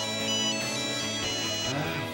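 A mobile phone ringtone rings loudly and continuously, a dense steady melodic tone filling the short moment with no talk over it.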